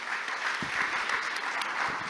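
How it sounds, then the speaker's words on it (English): A semiconductor conference audience gives its panelists a round of applause, even, dense clapping close and continuous across the whole stretch with no talk. "please give a round of applause to our panelists today"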